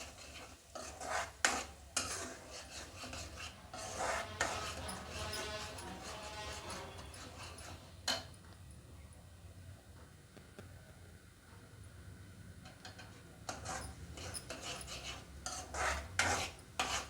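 Onion paste being stirred and sautéed in a pan for cauliflower gravy, with scraping of a spoon against the metal, soft sizzling and occasional clinks, fairly quiet and intermittent throughout, without speech.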